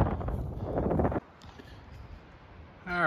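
Wind gusting across a hiking trail in the Rockies' Sheep Valley, a heavy buffeting rumble on the microphone at first, then dropping to a faint steady rush, before a brief voice breaks in at the end.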